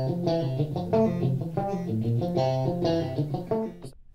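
Raw, unprocessed studio guitar track playing a plain, dry strummed chord pattern up close at moderate volume, continuous for a few seconds before cutting off abruptly, with no voices.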